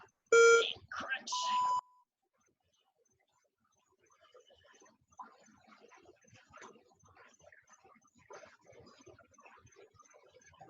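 Loud electronic beeps from a workout interval timer in a burst near the start, then fainter breathing and movement from an exercise session.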